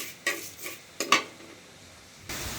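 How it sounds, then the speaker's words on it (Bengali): Rice is roasted and stirred in a pan, giving a few sharp scraping clinks of a utensil against the metal, spaced apart over a faint background, then a soft rising hiss at the end. "এখন কটা চাল ভাজবো"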